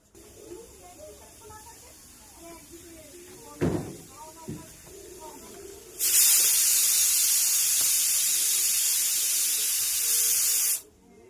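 Water sprays loudly and steadily for about five seconds while a scooter is washed at home, after a couple of knocks and quieter moments with a voice speaking.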